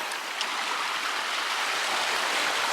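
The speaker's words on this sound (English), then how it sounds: "The sea there just lapping up." Sea water washes and laps against Battery Rocks in Penzance, a steady, close hiss of moving water filling the whole stretch with no talking.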